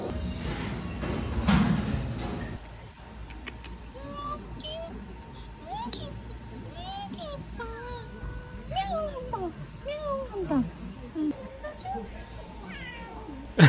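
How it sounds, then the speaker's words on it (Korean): A cat meows repeatedly in close, varied calls, following an initial burst of noise, with a person's voice occasionally murmuring nearby. "앞에 고양이 너무 귀여워."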